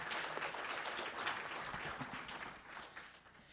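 Audience at a talk on technology and democracy applauds a guest, a soft, distant wash of steady clapping that gradually tapers off.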